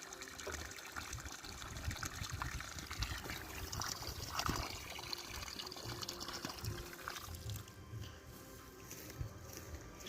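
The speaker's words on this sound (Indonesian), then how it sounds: "Jadi saya siram sampai menggenang." Water is poured over the soil around young durian and avocado plants until it pools, a soft continuous trickling and gushing heard close and faint for about ten seconds with no talk.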